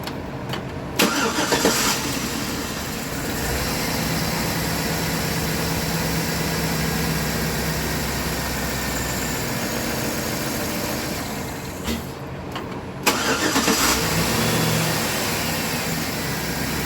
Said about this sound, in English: Let's see if it starts after cleaning injectors with diesel.